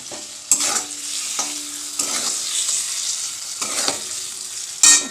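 Paneer frying in hot oil in a pan with salt and turmeric, a steady bright sizzle with several sharp spatula stirs and scrapes against the pan at irregular intervals.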